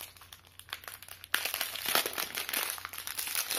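Plastic packets of clear nail-art pieces crinkle and rustle close by, quiet at first, then louder and busier after a sudden sharp crackle.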